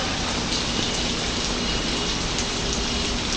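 Steady, dense rain falls close by, a constant loud hiss of drops on surfaces with no pauses.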